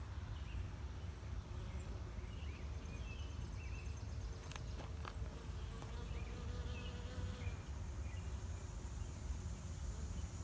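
Bees hum softly around lulla blossoms in a garden, a faint, continuous buzz that stays steady throughout, with no voices.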